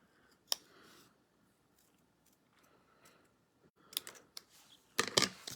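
Quiet, close snips of scissors fussy cutting paper, a sharp cut early on, then soft rustles and a cluster of crisp clicks and snips near the end.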